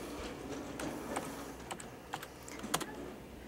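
Sparse, quiet keystrokes tap on a library computer keyboard, coming in irregular short clusters with small pauses, close and alone with no talk.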